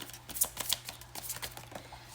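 Tarot cards being shuffled close up, a brief run of soft riffling and flapping card sounds with light irregular taps, quiet and without talk.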